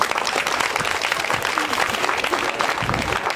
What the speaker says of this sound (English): And we clap for Jesus.